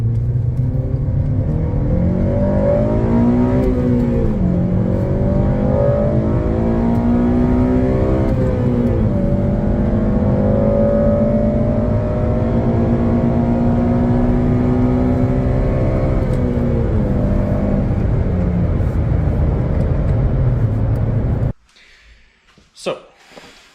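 An 8th gen Honda Civic Si engine revs hard while driving, its pitch climbing and dropping through repeated rising sweeps over a steady, loud drone, then cutting off abruptly near the end.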